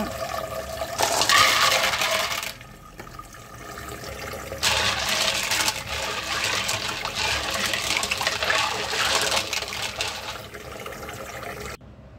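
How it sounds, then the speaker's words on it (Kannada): Water gurgles and splashes in bursts, with sloshing pauses between, as clams are rinsed and stirred in a basin of water. "ಈಗ ಕಪ್ಪೆ ಚಿಪ್ಪು ತೊಳೆದಿದ್ದಾಯಿತು."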